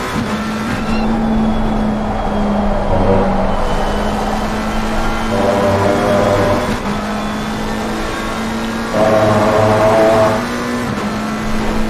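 Race car engine in a racing video game at the Red Bull Ring, droning loud and near with tones that rise as the throttle comes back on, then dip and climb again in a couple of surges.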